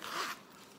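A zipper on a leather trifold wallet is pulled once in a quick, close rasping stroke that fades into quiet room tone.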